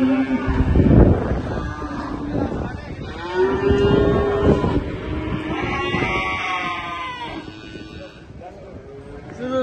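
Cattle moo repeatedly nearby, long low calls overlapping, with people talking in the background.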